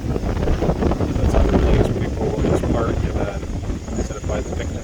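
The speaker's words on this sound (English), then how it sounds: "Very windy day" Wind blows hard across the microphone on a windy autumn day at a lakeside park, a continuous loud rumbling buffeting with slight swells and no talking.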